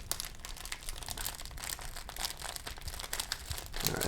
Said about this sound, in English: Yeah, it's crinkly, right?